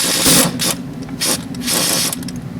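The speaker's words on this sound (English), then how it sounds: "So, just a little air wrench there." An air wrench works on a John Deere 4320 tractor during an O-ring repair, giving several short, loud mechanical bursts with rattling pauses between them and no talking.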